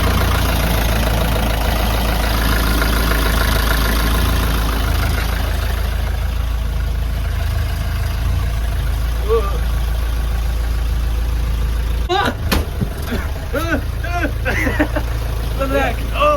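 A Mercedes camper van engine idles with a steady, close low rumble, then shuts off about three-quarters of the way through, leaving voices talking in the quiet that follows.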